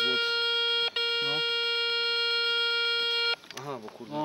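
A metal detector sweeping a dig site at night gives a steady, sustained electronic tone lasting about three seconds with one brief dropout, after which people start talking nearby.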